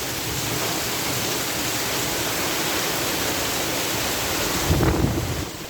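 Dense, roaring wash of heavy rain and strong wind, steady and loud throughout, with a brief low rumble swelling near the end.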